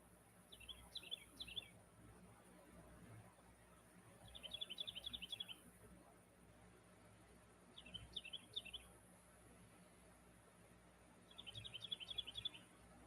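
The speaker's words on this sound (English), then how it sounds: "you hear the birds?" Small birds chirping outdoors in quick twittering bursts, four separate clusters spaced a few seconds apart, faint over a quiet background.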